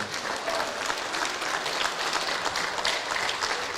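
Dense crowd applause fills a festive Kazakh tongue-opening celebration (til ashar toi) in Rudny, Kostanay region, a steady, close wash of many clapping hands with no pause throughout.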